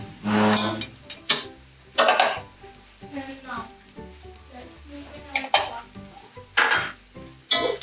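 Chicken being mixed with chili and Chinese salt in a metal bowl or pot: irregular scraping and clattering strokes of a utensil against the vessel, with sharp bursts of clanking in an uneven rhythm, close and fairly loud.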